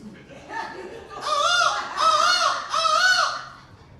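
A man on a comedy stage imitates a bird call with his voice, giving three drawn-out, warbling squawks in quick succession that sound loud and close, with a faint murmur underneath.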